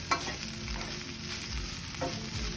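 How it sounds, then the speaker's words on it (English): Rice with pork, beef and vegetables fries in a pan, giving a steady sizzle under scattered stirring scrapes. The sound is close and moderately quiet, with no talking. "you can hear the rice kind of starting to fry a little bit"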